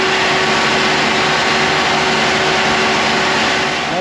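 Steady, loud running of a gas-powered Deutz generator engine close by. The drone holds an even, unchanging hum for the whole stretch, with no speech over it.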